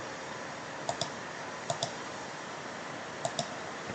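Arrow keys on a computer keyboard are pressed in quick pairs, three double clicks spaced out over steady faint room hum, close and crisp with no talking.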